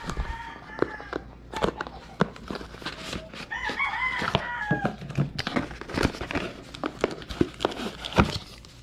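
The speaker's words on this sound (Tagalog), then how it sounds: "pasensya muna sa ingay sa likod dahil puro mga manok ay nandyan" Chickens cluck and a rooster crows nearby, with scattered thumps and shuffling sounds in a noisy outdoor setting.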